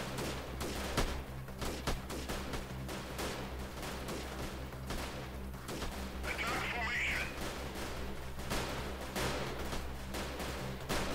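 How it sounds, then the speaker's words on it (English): Airstrike explosions and gunfire in the Freeman Guerrilla Warfare video game, a dense run of booming blasts and cracking shots rolling on throughout, loud and continuous, with a talking voice mixed in. "Let's call an airstrike over there,"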